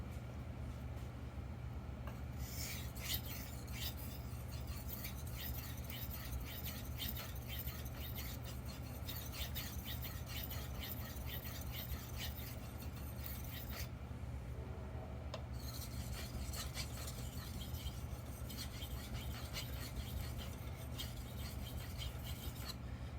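A carbon steel knife blade is polished on an 8000 grit Japanese whetstone with muddy slurry, giving a steady, close, soft rasping scrape of repeated strokes that continues throughout.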